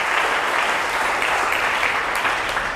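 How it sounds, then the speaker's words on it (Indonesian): A church congregation at an Indonesian revival service breaks into steady, dense applause, a continuous roar of many hands clapping together with no pauses, loud and full throughout. "Yang setuju beri tepuk tangan yang meriah bagi Tuhan."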